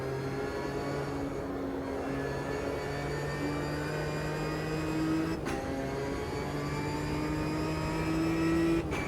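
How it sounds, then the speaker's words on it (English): Ginetta G55 GT4 race car in Automobilista 2 at Interlagos, with a loud, sustained engine tone and a rising, pitched transmission whine over several gear changes, no talk. "I love that transmission whine. Absolutely love that."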